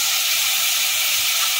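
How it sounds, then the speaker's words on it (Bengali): Gram flour batter poured into a hot pan for potato sagu hisses and sizzles in a steady, loud broadband rush that fills the whole clip without pause. "এবার আমি গুলে রাখা বেসনটাকে এর মধ্যে দিয়ে দেব।"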